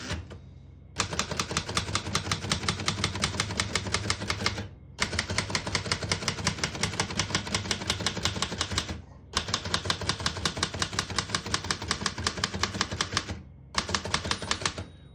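Rapid mechanical keystrikes of a 1936 Remington Model 5 portable typewriter clatter in four long bursts with brief pauses between, a dense steady rhythm of keys close up.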